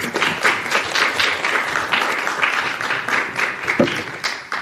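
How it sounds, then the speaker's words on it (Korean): A conference audience at the National Assembly in Korea gives steady, moderately loud applause, with many hands clapping in a continuous patter as a speaker is welcomed. "여러분 따뜻한 박수 부탁드립니다."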